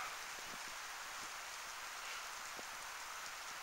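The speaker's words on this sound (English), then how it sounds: "It is starting to rain." Freezing rain starts falling during an April ice storm, a soft steady hiss of drops on surfaces with a few faint individual ticks, quiet and continuous with no voices.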